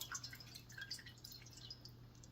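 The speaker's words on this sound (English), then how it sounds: "It's dripping, so we're not gonna take them out." Water drips from freshly cut flower stems while a bouquet is being arranged, soft close drips over a low steady hum, faint and without talk.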